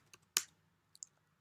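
A few scattered keystrokes sound on a computer keyboard while typing in a terminal, one sharp louder click followed by lighter taps, close and isolated without speech.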